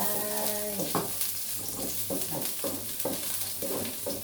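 Garlic sizzles in hot coconut oil in a pan during a stir-fry, a steady crackling hiss broken by several bursts of stirring and scraping, with a low hum underneath.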